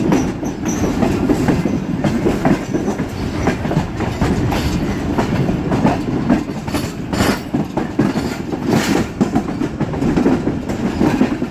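Sir Syed Express passenger train in Pakistan crossing points as it changes tracks, wheels clattering loudly and rhythmically over the rail joints with steady rumbling throughout.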